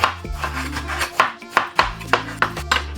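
A knife chops eggplant (talong) on a board for binagoongan, a steady series of crisp, close knocks at a quick, even rhythm with a low hum underneath.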